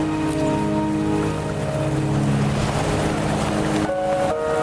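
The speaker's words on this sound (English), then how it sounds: "Don't worry, the rain won't last much longer." Steady rain pours in the video game Wuthering Waves, a dense even hiss with faint tonal game music underneath, continuous and moderately loud.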